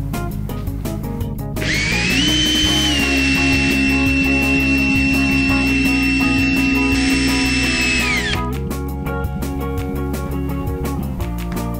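A power drill with a masonry bit spins up to a loud whining drone that holds for several seconds, then winds down, close and continuous amid background clatter.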